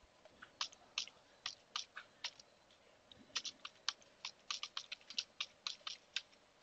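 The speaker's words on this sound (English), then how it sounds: "Type the command like this, after that press enter." Keystrokes on a computer keyboard come in quick irregular bursts of sharp clicks, close and fairly quiet, with a short pause midway and no voices.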